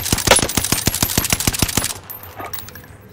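Rapid automatic gunfire in the video game Caldera, a fast burst of about a dozen sharp close shots followed by a few scattered distant cracks.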